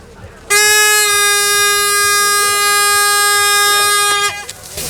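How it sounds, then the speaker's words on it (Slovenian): A loud, sustained air horn blares for about four seconds to start a cross-country ski race at Pokljuka, steady and harmonic-rich, then cuts off abruptly in an outdoor setting. "Hupa je pripravljena"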